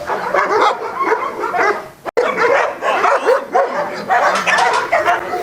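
A trained service dog, used to riding on call-outs by road and bus, barks repeatedly with yips and whimpers, loud and close, filling the whole stretch except a brief break.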